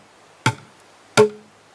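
Two sharp, dry strikes on a plastic five-gallon bucket played as a drum, spaced under a second apart, close and clear with quick decay.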